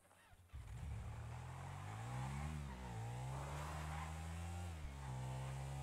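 In the video game GTA 5, a car engine starts and revs up steadily, its droning pitch rising and dipping as the car accelerates, close and continuous.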